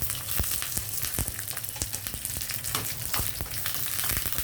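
Tempering spices of garlic, cumin, mustard seeds, dry chilli and curry leaves sizzle in hot oil over lowered heat, a continuous fry dotted with sharp crackles and pops from the seeds.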